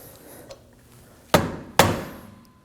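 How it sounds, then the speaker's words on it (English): Two sharp, close metallic strikes from a hammer tapping a small screwdriver to stake a rear wheel hub nut on a 2014-2020 Acura MDX, each ringing briefly after a faint earlier tap. "I'm gonna use a small screwdriver and a hammer to lock the nut in place."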